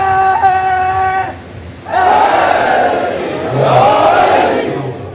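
At a Muharram majlis in an imambargah, a single voice calls out a religious slogan and a large crowd answers with two loud, roaring chanted responses.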